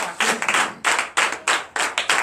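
A church congregation at a Sunday service claps together in rhythmic, fairly loud bursts, the beats falling in steady groups close by for a couple of seconds.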